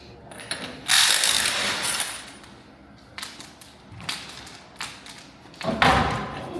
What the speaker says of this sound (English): He's just grabbing a floor jack and we're gonna take the wheel and stuff.